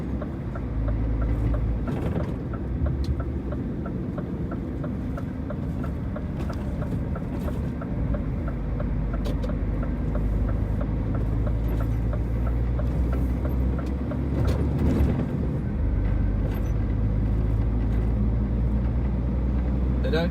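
Steady low rumble of rush hour traffic near Wembley, UK, heard from inside a truck cab pulling a trailer, with a constant engine drone and passing cars blending into a continuous, moderately loud hum.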